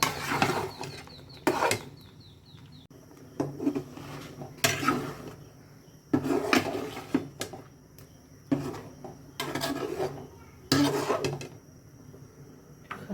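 Ingredients being mixed in a cooking pan, including green chilies, with a run of repeated scraping and knocking strokes at a steady, uneven rhythm, close and moderately loud, with no talking.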